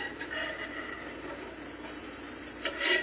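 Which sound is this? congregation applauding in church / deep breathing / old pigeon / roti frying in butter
roti frying in butter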